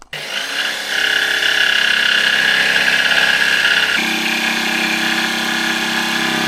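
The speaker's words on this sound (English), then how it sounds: "ready to just use the jigsaw to cut these out." A jigsaw cuts a wheel arch out of a camper floor board, starting with a sharp whine that settles into a loud, steady buzzing whir and drops to a lower pitch partway through, close and continuous with no voices.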